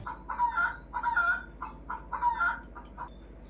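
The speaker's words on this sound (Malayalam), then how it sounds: "പക്ഷെ കോഴികൾ അവനെ കണ്ടു ബഹളം വെച്ചു." Chickens clucking and squawking in alarm, a run of agitated calls in quick rhythmic bursts, close and loud with no talk over them.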